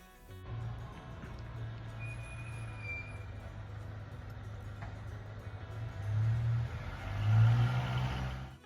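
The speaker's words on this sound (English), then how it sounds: "I just saw the mail truck go by." A mail truck rolls past outside, its engine rumble rising from a low steady drone to a louder swell as it passes, heard from a distance with no talking.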